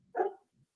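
A dog gives a single short, faint bark with a small yip after it, off to one side, at an open mic night with no speech.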